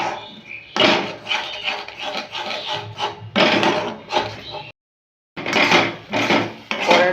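Thick chana dal barfi mixture is stirred and scraped in a wok, a close, loud rhythmic rasping that comes in repeated strokes of a second or so, broken by one brief pause.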